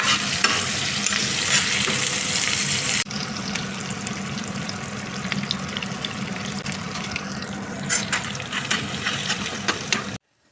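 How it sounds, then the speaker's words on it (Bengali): Eggs being scrambled in a frying pan in a home kitchen, a steady close sizzle with scraping stir sounds and a few louder clinks toward the end, no talk. "একটু ডিম বর্জি করে নিলাম"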